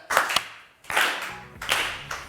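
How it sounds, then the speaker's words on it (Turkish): Game show studio audience applause, slow and sad, arriving in three short swells of clapping that rise quickly and fade, close and fairly loud. "Gerçekten bu üzgün alkış bugün yavaş bir halay gibi duyuluyor sevgili izleyenler"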